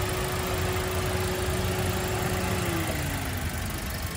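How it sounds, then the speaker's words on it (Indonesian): A 1500cc dual VVT-i engine in a white 2021 Toyota Veloz 1.5 manual runs at a steady idle, a constant close hum with no voices. "kita lihat mesinnya, 1500cc ya, dual VVT-i"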